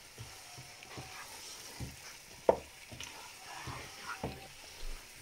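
Masala fish frying in a pan is stirred gently, with soft, rhythmic scrapes and light clinks over a faint, continuous sizzle, and one sharper knock midway.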